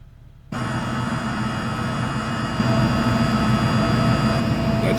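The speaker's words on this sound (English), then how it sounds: "That's standing inside a wind turbine." Machinery heard from inside a wind turbine: a dense, steady mechanical roar with tonal hum that kicks in abruptly after a quiet moment and swells slightly midway, loud and continuous, no talking.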